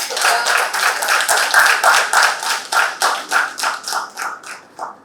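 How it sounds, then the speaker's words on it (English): Audience applause for the winning opposition team at a youth debate on generative AI: a dense, steady wash of many hands clapping that thins into separate, slower claps and fades away. "Please give them a big round of applause."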